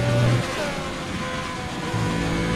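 A Formula 1 race car engine in the F1 2020 video game at the Austrian Grand Prix in Spielberg drones steadily at high revs, loud and continuous with slight pitch shifts.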